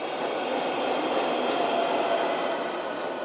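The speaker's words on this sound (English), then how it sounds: "This is the Metro riding into the train station and slowing down." A London metro train pulls into a station and slows down, a steady, dense rumble and hiss with faint wheel squeal, swamped in heavy reverb that makes it sound vast and spacious, with no voices.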